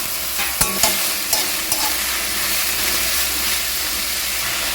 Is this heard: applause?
no